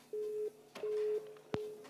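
A telephone busy signal gives three evenly spaced steady tones, each about a third of a second long, with short silent gaps between them. A brief loud click cuts across the third tone. No one speaks.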